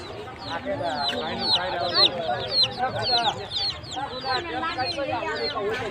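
Chickens and roosters at a Saturday market in Savarkundla cluck and chatter continuously, many birds overlapping close by in a dense, noisy flock.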